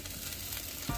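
Steady sizzling of masala frying in a clay pot for chicken biryani, continuous crackle throughout with a brief low clunk near the end.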